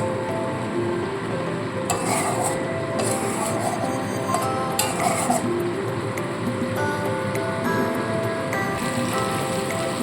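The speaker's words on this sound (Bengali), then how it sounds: "এবার মশলাটাকে খুব ভালো করে প্রথমে কষিয়ে নিতে হবে একদম কম আছে মশলাটা কষাবো" Spice paste fries and is stirred in a pan with a little water, a dense, continuous crackling sizzle like rain on a surface, with a few brief scraping ticks from a spoon, close and steady throughout.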